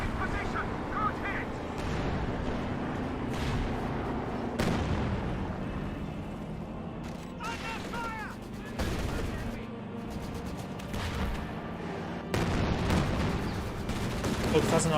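A Company of Heroes 2 artillery barrage sounds as repeated heavy blasts and crackling gunfire in bursts across the span, with rumbling impacts, while a voice talks over the battle.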